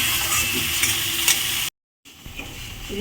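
Mustard, poppy seed and green chili paste sautés in a pan with an egg dish, sizzling steadily while being stirred; the sound cuts out briefly to silence, then resumes more quietly.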